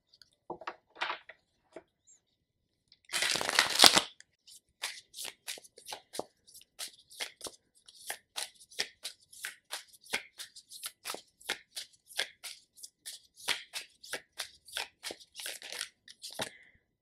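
Advice cards for a reading are handled and shuffled close up: a short burst of riffling followed by a long run of quick, crisp card taps and flicks in an uneven rhythm, with no talking.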